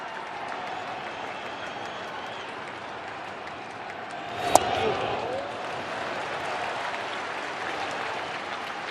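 A sellout baseball crowd at a Cardinals spring game in St. Louis roars steadily, with one sharp bat-like crack midway and a broad swell of cheering under announcer talk.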